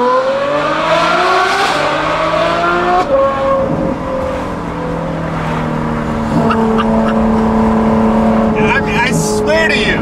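A Ferrari F12's naturally aspirated V12 howls through repeated hard accelerations, its pitch sweeping upward in rising gear pulls, loud and close, with someone talking over parts of it.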